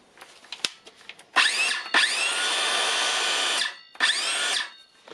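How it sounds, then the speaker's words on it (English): Makita LXT 18V brushed circular saw motor spinning up after a controller repair: a high whine that surges on, holds steady for about two seconds, cuts off, then spins up again briefly, with a few clicks before. "Now we can check if it spins. It seems that it spins."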